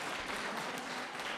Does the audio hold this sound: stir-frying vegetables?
no